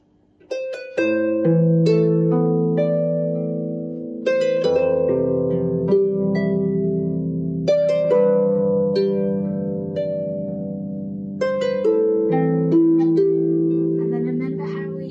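Manx harp plays a section of a lesson tune, plucked notes ringing and overlapping in gentle phrases with low bass tones, clear and close with no talking.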